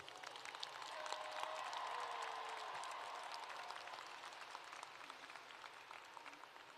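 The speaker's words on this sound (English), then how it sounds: "Give them a round of applause this morning" Faint, steady applause from a crowd at a high school graduation ceremony welcoming the seniors, swelling briefly and then holding at a distant, even wash.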